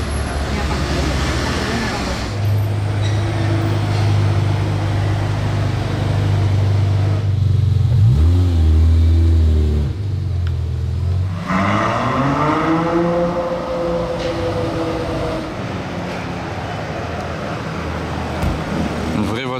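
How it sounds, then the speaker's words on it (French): A turquoise Lamborghini Aventador SVJ Roadster passing on a street in Monaco amid traffic noise, its engine note rising and falling as it goes by, while people talk over the steady roadway din. "la SVJ Roadster là, il est arrivé hyper furtivement, turquoise, splendide"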